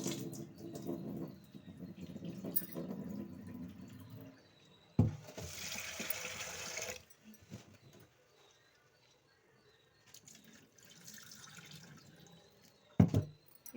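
Moong dal being rinsed by hand in water while cooking at home, with sloshing, trickling and dripping in bursts, a sharper splash burst midway, then quieter stretches and a final clatter.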